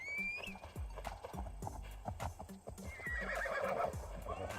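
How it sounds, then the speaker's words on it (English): A horse whinnies and gallops in the video game Assassin's Creed Shadows, with rhythmic clip-clop hoofbeats throughout and a neigh near the start, under game ambience. "Let me call my horse."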